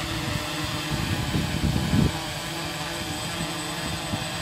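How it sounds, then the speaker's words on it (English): A quadcopter drone with a NAZA Lite flight controller flies outdoors, its steady buzzing rotor whine holding constant throughout with a brief swell midway, over wind noise and with no talking. "Anyway, that's the quadcopter."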